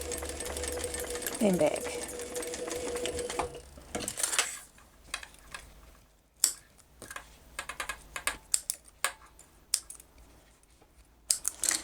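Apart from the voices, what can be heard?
sewing machine stitching a bag strap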